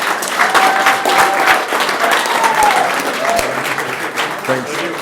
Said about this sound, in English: All right, one more round of applause for Laura,